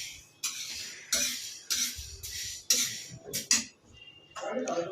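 Mung beans dry-roasting on a griddle rattle and scrape in regular bursts as they are stirred, each stroke a short, close, clattering sweep, with brief pauses between strokes.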